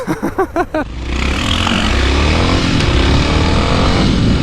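A Honda XR650L adventure-build motorcycle on tight single track, its engine thumping through a few quick revs and then holding a loud, steady close-up drone.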